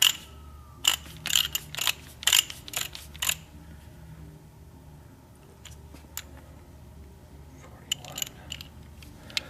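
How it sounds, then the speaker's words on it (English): A torque wrench ratchets bolts down on a Suzuki Jimny engine, set to 41 foot-pounds. Close, quick bursts of metallic clicking come in the first few seconds, then the clicks turn sparse and quieter. "we're going to take our torque wrench. We're going to set it to 41 foot-pounds first."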